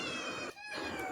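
A kitten meows in a short, clear, high-pitched cry that dips briefly in the middle and then resumes, heard close and alone.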